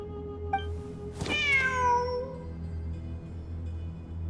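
A cat in the video game Genshin Impact lets out one clear drawn-out meow that bends downward in pitch, preceded by a tiny chirp, over a low steady hum.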